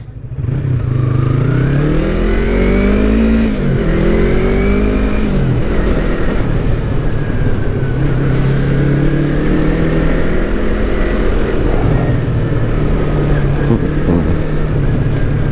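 A Yamaha MT-09 motorcycle engine, suspected of a spun bearing, revs loudly and continuously at close range, its pitch rising and falling through several throttle swells, with some faint clatter.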